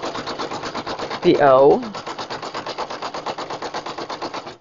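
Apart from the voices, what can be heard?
Brother PE770 embroidery machine stitching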